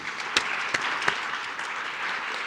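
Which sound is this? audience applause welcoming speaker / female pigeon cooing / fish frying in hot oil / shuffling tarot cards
audience applause welcoming speaker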